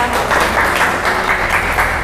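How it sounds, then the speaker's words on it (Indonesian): A classroom audience claps steadily for a student group after its science presentation on separating mixtures, a dense, close wash of applause that holds evenly through the short moment. "Kita tepuk tangan untuk kelompok 2."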